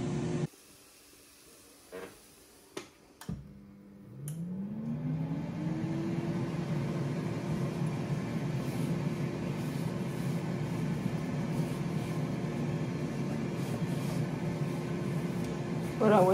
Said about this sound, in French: je vais le faire cuire dans l'air fryer